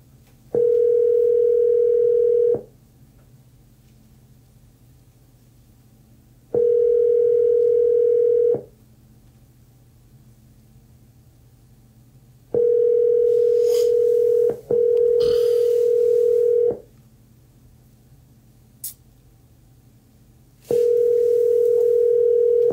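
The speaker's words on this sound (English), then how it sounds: "I'm going to try to call him again." Outgoing telephone call ringing: a steady electronic ring tone repeats in long, evenly spaced bursts of about two seconds with pauses between, loud and close, with faint background noise.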